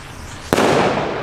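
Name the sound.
firework rocket going off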